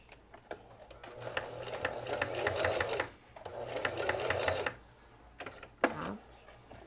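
A sewing machine stitching braided straw rope runs in two sustained bursts of rapid, even clatter, with short pauses and a few sharp clicks in between, close and fairly loud.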